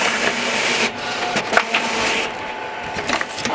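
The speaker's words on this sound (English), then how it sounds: "Now I'm just gonna go ahead and print." Inkjet printer printing a transfer onto 11 by 17 paper, a steady mechanical whir with shuttling carriage passes and small clicks, moderately loud and close with no voices.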